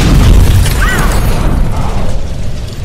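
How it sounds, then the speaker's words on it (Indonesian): A loud, deep blast from gasoline igniting in a film, spreading through a cabin, with a roaring, rumbling body that stays heavy for a few seconds before easing off. "menyebabkan ledakan yang menyebar ke seluruh kabin."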